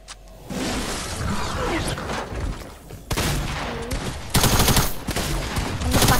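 Gunshots in a video game: rapid bursts of gunfire in several loud clusters with whooshing movement sounds between them, close and dense.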